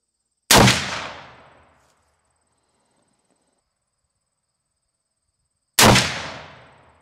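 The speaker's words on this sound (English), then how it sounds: "Let's just try another 3-shot group here." Two sharp, loud rifle reports from a Marlin 1894 in .44 Magnum firing 200-grain XTP loads at an outdoor range, several seconds apart, each followed by a fading echo tail and near silence between.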